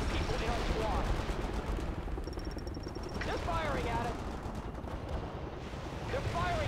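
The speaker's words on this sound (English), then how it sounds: "They're firing at us!" Gunfire in the real-time strategy game World in Conflict during a Soviet Assault skirmish in Virginia, a continuous rumble of artillery and rifle fire with soldiers' radio chatter and shouts mixed in throughout.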